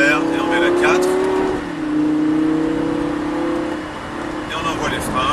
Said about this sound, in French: on accélère et on met la 4